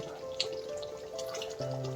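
A little water poured into a pan of fish curry gives a short, soft, continuous trickle with a faint splash, quiet and close.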